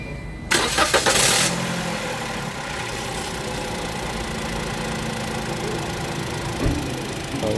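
A 2024 Toyota Raize cranks over and fires, the starter whirring for about a second before the engine catches and settles into a steady, fairly loud idle, with no voices.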